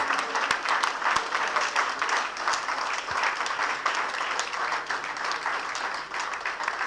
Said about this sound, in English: Please stand up. A round of applause.